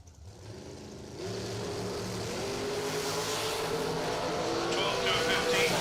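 A drag race run at a bracket event, with a dragster's engine roaring loudly as it launches and sustains a strong, rising drone to the end.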